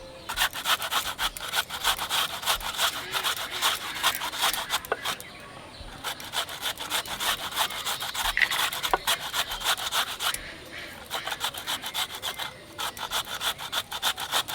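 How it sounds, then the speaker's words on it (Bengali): Raw potato being grated, a steady run of rapid rasping strokes, close and fairly loud, with a brief pause midway before the scraping resumes, and no talk. "আলুটাকে ঘষে জলে ফেলবো।"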